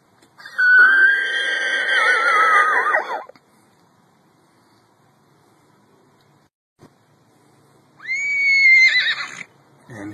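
A person imitates a horse's whinny to call horses in a field, two loud, long, quavering neighs several seconds apart with quiet outdoor ambience between them.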